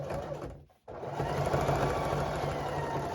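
A basic, non-computerized sewing machine stitches a farmhouse jelly roll rug. Its steady, close mechanical whirr drops out briefly near the start, then runs on continuously.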